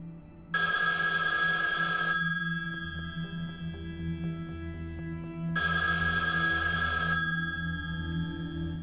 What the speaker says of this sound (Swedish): Det är telefonen som står på Bojans skrivbord som ringer.